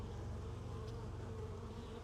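Honey bees from a 12-year-old hive being removed and relocated buzz in a dense, continuous drone, steady and fairly quiet, with no talk.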